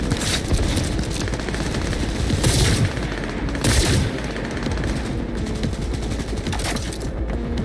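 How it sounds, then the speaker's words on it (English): Close-range gunfire in Cyberpunk 2077, loud dense bursts of rapid shots with heavier booming blasts around the middle, continuous and chaotic throughout with no clear gaps. "Firing at close range!"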